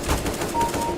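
A rapid burst of automatic gunfire in the video game Valorant, close and loud, with several quick shots packed into about a second.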